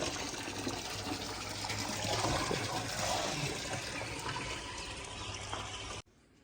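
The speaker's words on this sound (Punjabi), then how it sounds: "ਪਾਣੀ ਆਪਾਂ ਮੱਝਾਂ ਨੂੰ ਪਿਆਤਾ" Water gushing steadily into a trough for buffaloes to drink, a loud, continuous rushing flow with no pauses that cuts off abruptly near the end.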